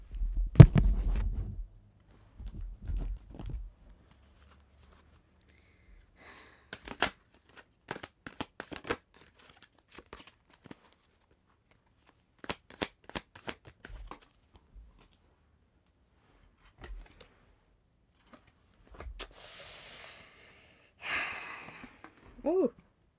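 Tarot cards being shuffled and handled during a reading: soft riffling and scattered card slaps come in short bursts across quiet gaps, with a few brief sounds of a voice.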